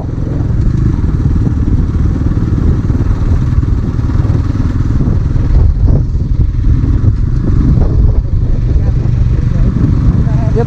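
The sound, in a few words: motorcycle engine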